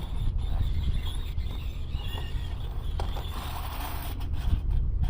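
A nylon-bristle chimney brush scrapes and creaks as it is pushed down the stovepipe of a Quadra Fire Discovery II wood stove, a steady rough grinding with intermittent clunks and knocks.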